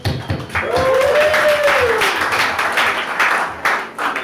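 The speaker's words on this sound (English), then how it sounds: "I'm giving y'all a round of applause" An award-ceremony audience at the 2015 Demiurge Awards gives steady, fairly loud clapping, with a short whistle-like cheer rising over it near the start.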